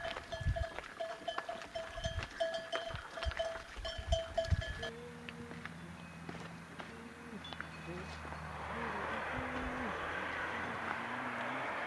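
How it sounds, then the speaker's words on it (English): A herd of cows passes along the Camino de Santiago between Portomarín and Palas de Rey, with clanking bells, shuffling hooves and occasional lowing, close and busy, followed by a steadier drone of the herd moving on. "Watch the cows go past."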